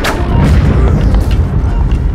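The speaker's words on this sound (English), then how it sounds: "I thought we was about to die from the explosion" An explosion in Zelda: Breath of the Wild, heard as a loud, sustained booming rumble with crackling bursts that roll on for a couple of seconds, close and heavy.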